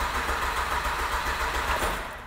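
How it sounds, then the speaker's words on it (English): Acura TL engine turning over sluggishly on a jump box, a steady low mechanical churn with a faint rhythmic pulse, close and moderately loud, fading slightly at the end. "it's not cranking like it used to"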